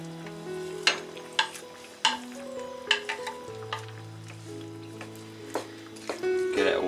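Potatoes, carrots and peppers being stirred into a chicken caldereta sauce, with a soft wet sizzle under repeated scraping clinks of a spoon against the pot, bright knocks recurring about once a second, plus a steady background tone.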